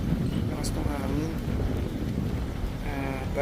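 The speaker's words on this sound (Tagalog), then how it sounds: "Lakas ng hangin." Strong morning wind at a seaside campsite in Calatagan, Batangas, buffets the microphone with a steady, close, low rumble that lasts the whole time, while a voice speaks briefly over it.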